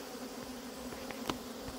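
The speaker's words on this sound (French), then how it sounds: "Toutes les abeilles qui étaient dehors volent" A swarm of honeybees flies around an outdoor hive box during a swarm collection, making a faint, steady buzzing hum with a few louder passes close by.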